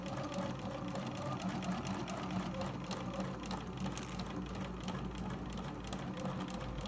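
A sewing machine runs continuously as it stitches the centre back seam of a bucket hat toile, a steady close mechanical whirr with rapid rhythmic needle clatter.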